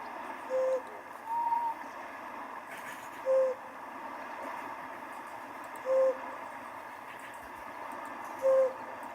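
A flammulated owl gives short, soft single hoots at regular intervals of a few seconds, five in all, faint against a quiet background hiss.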